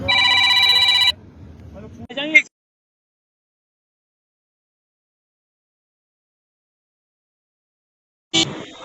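A telephone ringtone trills loudly for about a second, followed by brief muffled noise and a voice, then silence until a short final burst of sound.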